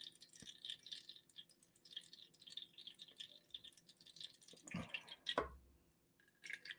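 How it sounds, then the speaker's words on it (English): Water drips from soaked, swelling groats in a quiet kitchen, a scattering of small wet patters and splashes, with a brief louder burst of dripping near the end. "You can hear the water dripping out"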